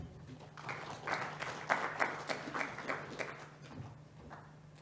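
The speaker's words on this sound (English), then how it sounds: "Please, let's clap for Ronald." Scattered applause from a conference audience at Africa Cyberweek 2023, modest and uneven, with loose claps rising and fading over a steady low hum.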